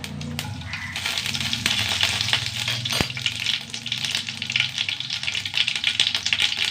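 Fennel seeds, added after mustard seeds, sizzle in hot oil in a pan, a steady close frying hiss scattered with small crackling pops.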